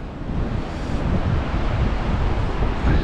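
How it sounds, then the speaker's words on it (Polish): Rough, churning sea waves off the coast of Majorca roar continuously and loudly, with heavy wind buffeting the microphone throughout and no voices. "Piękne, wzburzone fale."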